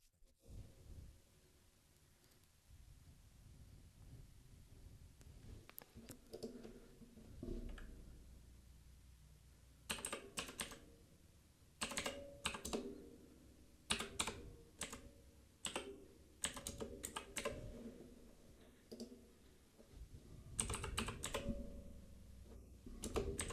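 Card details are typed on a computer keyboard in quick, soft bursts of key clicks. Short pauses separate the bursts, the sound is close and quiet, and no one speaks.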